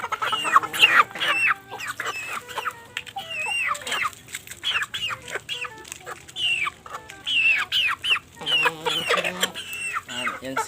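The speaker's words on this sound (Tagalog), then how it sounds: "Yan yung ating mga manok." Chickens cluck and squawk on a goat farm, a busy run of close, fairly loud bird calls that comes in bursts, with some faint voices in the background.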